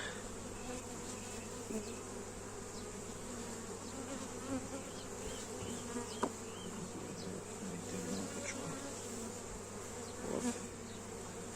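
Honeybees hum as a steady, dense buzz throughout a hive inspection, with the drone staying close and even while a few brief bees pass nearer with louder swells.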